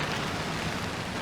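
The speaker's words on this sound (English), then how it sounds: "I'm making my way east through the rain" Steady rain falls on a city street in downtown Toronto, a continuous broadband hiss that stays even and close throughout, with no voices.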